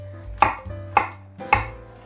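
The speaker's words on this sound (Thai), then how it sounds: "อันนี้ที่หั่นเป็นสี่เหลี่ยมอะค่ะเพื่อที่จะให้มัน ไม่ใหญ่เกินตัวเลนทิว" A kitchen knife chops vegetables into small cubes on a cutting board, three crisp, evenly spaced strikes, close and clear with no talking.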